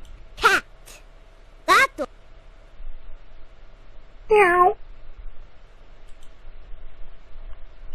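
A cartoon cat gives a single short meow in the Dora the Explorer Say It Two Ways Flash game for kids, coming after brief bursts of spoken vocabulary words in a quiet background.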